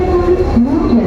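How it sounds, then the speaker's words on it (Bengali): A double-decker passenger train in Delhi rumbles close by as a loud, steady low drone with a constant tonal hum, unbroken for the whole moment. "তো বন্ধুরা, এই যে দেখো ডবল টাকার ট্রেন।"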